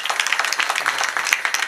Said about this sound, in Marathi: त्यांच्याकरता एकदा टाळ्या वाजवा